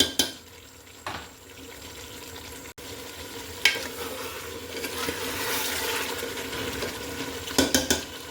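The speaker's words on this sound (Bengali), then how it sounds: "হালকা নাড়াচাড়া করে নিচ্ছি।" Golden chicken pieces frying in a pot are gently stirred, giving a steady soft sizzle broken by occasional scrapes and clinks of the spoon against the metal, close up with no voices.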